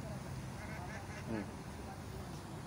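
Ducks quack in a few short bursts, fairly close, over a steady noisy outdoor background.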